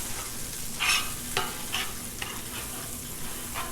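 A chunk of butter sizzles on a hot Blackstone flat-top griddle, giving a constant, close, hissing crackle with a few brief scraping bursts.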